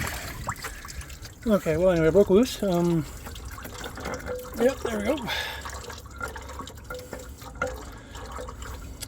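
Fluid dripping onto the floor from a 1995 Buick Roadmaster during distributor removal, soft watery drips and trickles close by. Someone talks over the dripping in short bursts.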